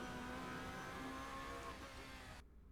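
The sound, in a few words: racing car engine accelerating in a racing simulator game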